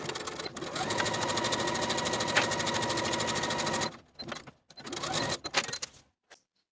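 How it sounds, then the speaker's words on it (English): A sewing machine stitches the underarm and sleeve seams of a women's suit jacket, running steadily and loud up close for several seconds, then in short stop-start bursts with brief pauses. "Sew each seam with a 5/8 inch seam allowance and press the seams open."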